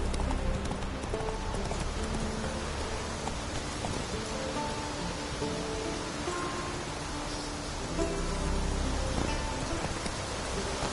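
Roach, a horse in the video game Witcher 3, runs with steady hoof clip-clop over a constant hiss of rain and ambient noise, moderately loud throughout.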